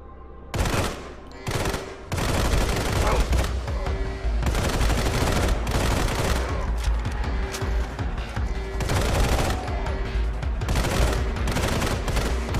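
Dense, loud gunfire from the mobile shooter game Sniper Fury, rapid overlapping shots forming a near-continuous barrage after a couple of short opening bursts.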